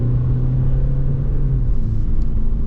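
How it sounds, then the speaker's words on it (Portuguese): A GWM Haval H9 diesel SUV accelerating at full throttle, heard from inside the cabin as a steady, loud low engine drone and road rumble with no talk. "Ó, vamos pé fundo de novo."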